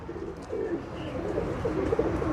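Pigeon cooing, a Ferozpuri teddy cross bred by a pigeon fancier, sounds as a soft, continuous low murmuring coo at moderate distance, steady across the short stretch with no talk.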